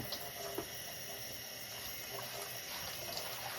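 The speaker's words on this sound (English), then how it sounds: "I'm going to run some cold water in the other half of my sink over here." Cold water runs from a tap into one half of a kitchen sink, a steady, faint rushing hiss that continues without interruption and without talk.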